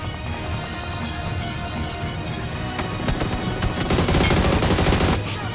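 Gunfire in the video game PUBG, in a new mode: dense, continuous rapid shots like automatic weapon bursts go on throughout and grow louder and thicker toward the end, with no talking.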